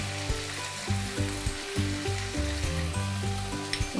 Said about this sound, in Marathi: हे सगळं मिक्स करायचं आहे आणि एक 5 ते 10 मिनिटं याला शिजून द्यायचं आहे